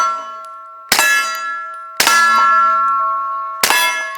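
Bullets fired from an FN 509 Tactical pistol strike a steel target with three sharp, ringing clangs, each leaving a long metallic ring that decays slowly, close and loud with no talk.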